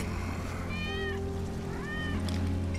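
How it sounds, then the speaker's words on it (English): A cat meows in the video game Final Fantasy VII Remake, two clear rising-and-falling meows in succession over a low, steady game soundtrack hum. "That's Wedge's cat."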